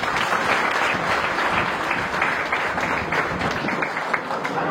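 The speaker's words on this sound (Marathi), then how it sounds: "या सर्वांसाठी सगळ्यांनी जोरदार टाळ्या" Loud, sustained applause from a crowd at a birthday celebration honoring a devotee, steady dense clapping filling the whole stretch with no talk.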